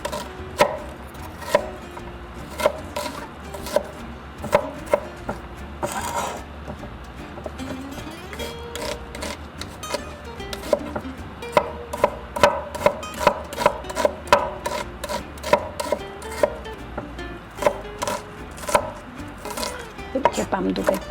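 A knife chops onion finely on a wooden board in steady, rapid taps that come in bursts and speed up toward the end, close and crisp with no talking.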